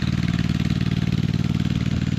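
A water pump engine chugs beside a rice paddy in a Konkan village, a loud, close, steady idling thump with a fast, even pulse throughout and no speech.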